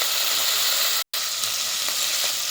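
Salt, turmeric and chili fry in a pan with a loud, even, close sizzle and hiss that is broken once by a brief moment of silence.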